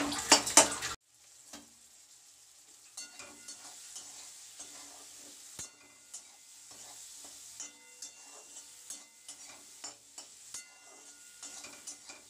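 Whole prawns and Malabar spinach simmering in a pan, a quiet bubbling sizzle with intermittent scrapes and taps of a spatula stirring, fairly faint and near, no talking.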